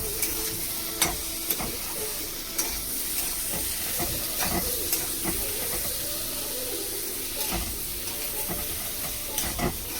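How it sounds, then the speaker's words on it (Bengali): Cumin and coriander powder stirred and fried in a pan while cooking a prawn curry, with a steady sizzle and hiss under repeated scraping stirs and occasional spoon knocks against the pan. "জিরে পাউডার, ধনিয়া পাউডার নেড়ে নেব।"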